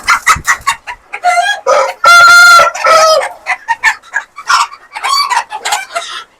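Chickens, including Japanese and Yokohama breeds, cluck in quick bursts on a poultry farm while a rooster crows loudly and clearly in the middle, close by and without any talking.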